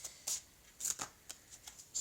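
Tarot cards being shuffled by hand during a reading, a series of crisp riffling and slapping bursts in an uneven rhythm, close and moderately soft, with no talking.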